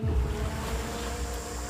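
Ocean waves wash steadily around swimmers in the sea off an island, a broad continuous roar of surf mixed with wind buffeting the microphone, close and fairly loud.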